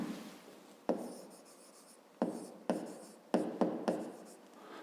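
A pen scratches numbers by hand on paper in a quiet room. Several short, close strokes come in irregular bursts with brief pauses between them.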